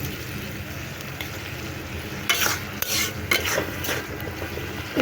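Taro stolon curry with salt being stirred and sautéed in a pan: a soft continuous sizzle broken by a cluster of scraping spoon strokes in the second half, close by and without speech.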